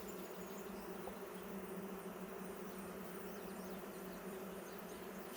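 Honeybees buzz steadily inside an open beehive, a dense continuous drone of many wings close by, holding an even level throughout with no voices.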